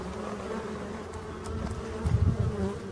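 Black honeybees buzz close by at the hive entrance, a steady droning hum that swells slightly toward the end, with no voices.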